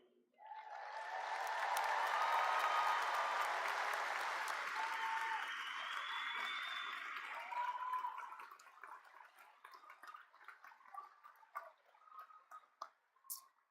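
A large commencement crowd applauds the graduating class standing at the 161st ceremony: a dense, swelling roar of clapping that holds strong for several seconds, then thins into scattered individual claps before fading out.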